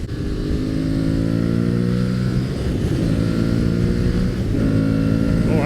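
A motorcycle cruising on a country highway, its engine a loud, steady droning hum with rising and falling pitch as the throttle opens and eases, heard up close from the rider's position, with wind rush underneath.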